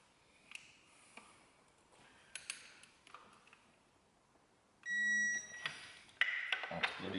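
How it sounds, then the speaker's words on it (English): A digital torque wrench gives a short electronic beep, with scattered clicks and ratcheting clatter before it and more mechanical noise right after, during work on a 2010 Vauxhall Insignia 2.0 CDTI. "It's a digital wrench, so it'll measure the angle and it will beep and vibrate when I hit it."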